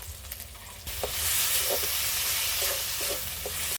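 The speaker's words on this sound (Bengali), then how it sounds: "সামান্য পরিমাণে জল মশলাটা ভালো করে কষিয়ে নেব" Spice masala with tomato, ginger-garlic paste and a splash of water fries in a pan, a loud continuous sizzle broken by several short scraping stirs.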